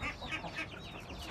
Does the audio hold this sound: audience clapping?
no